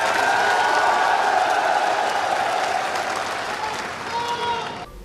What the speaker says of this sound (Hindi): आप लोगों ने जिस तरीके से तालियां बजाकर मेरा स्वागत किया है